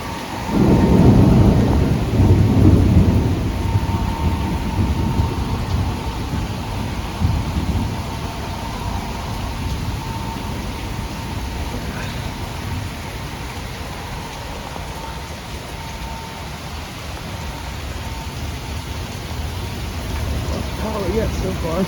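Strong nighttime thunderstorm with gusty winds: a loud, deep thunder rumble opens, then steady heavy rain and wind roar continue throughout, close and enveloping.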